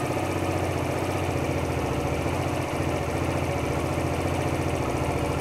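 A motorcycle engine idles steadily at about 1700 rpm, its speed held by the idle control valve, giving a constant close, buzzing drone with no pauses or talk.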